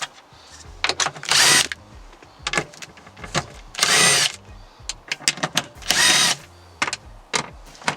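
Power tool with a 10mm socket spinning out cover bolts on a Mini Cooper S, several short whirring bursts of varying length close up, separated by brief pauses and small clicks.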